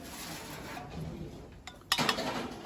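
A frying pan is set out for tempering while cooking Maharashtrian food, giving faint metallic clinks and a louder clatter near the end against quiet kitchen background.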